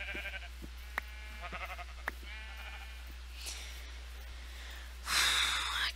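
Minecraft sheep give several short wavering bleats, mid-loud and repeated, over a steady low hum, ending in a burst of broadband hiss.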